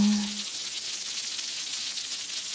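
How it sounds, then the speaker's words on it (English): Rain falls as a soft, even patter and hiss, steady and fairly close, with a brief low tone at the start. "It begins to rain."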